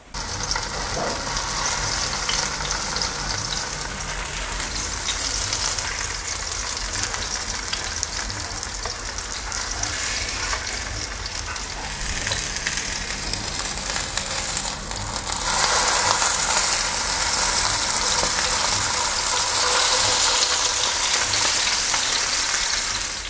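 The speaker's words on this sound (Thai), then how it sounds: "ตอนนี้หนังปลาก็กรอบแล้วนะครับ ให้เราพลิกกลับด้าน ทำให้กรอบทุกด้านเลยนะครับ" Salmon fillets frying skin-side down in a pan, a steady, loud hissing sizzle that continues throughout and swells briefly louder near the end, with no talk.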